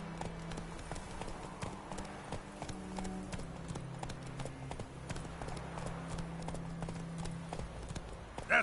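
Hooves of Roach, Geralt's horse in The Witcher 3, a steady rhythmic clip-clop at a walking pace, fairly quiet and close, with faint background tones underneath.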